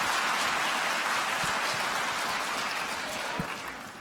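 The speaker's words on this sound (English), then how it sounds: "All right, can we do a big round of applause?" Dense, steady applause from a commencement audience fills the whole stretch, a broad wash of clapping that stays loud throughout and eases slightly toward the end.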